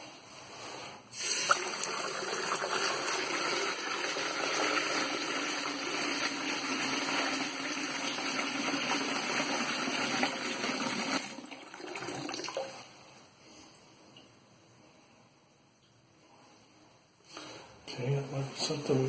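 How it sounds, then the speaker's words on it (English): Water draining slowly from a sink in a rental property, a steady rushing gurgle for about ten seconds that fades to a faint trickle, then a brief swell at the end. "Taking a little longer to drain."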